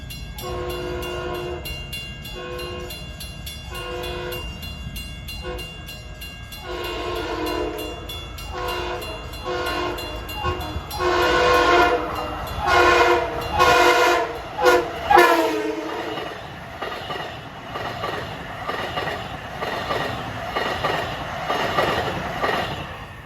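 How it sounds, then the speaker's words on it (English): An eastbound Long Island Rail Road train of Bud-built 1980s M3 electric cars passes at Farmingdale, opening with rhythmic horn blasts for the crossings, then a loud, close rush of wheels and cars that slowly fades. "we have an eastbound train 1966 made of a brace of Bud-built 1980s M3 cars"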